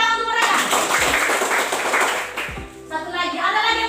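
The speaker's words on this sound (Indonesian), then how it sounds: "Oke, tepuk tangan untuk mereka" Children in a classroom give a lively round of hand clapping, dense and steady for a few seconds before it tapers off, with a teacher's voice heard at the start and end.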